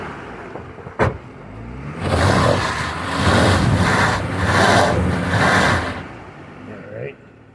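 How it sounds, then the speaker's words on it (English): A Jeep climbs a trail obstacle in two-wheel drive, a sharp knock followed by a loud engine straining in surges for several seconds before easing off, close up. "We're gonna bump it and see if two-wheel drive will still get up it."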